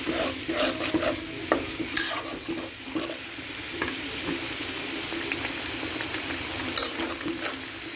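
Spice masala sizzles steadily in a pan with a splash of water added, while a spoon stirs and scrapes in repeated strokes; close, moderately loud frying with no talking.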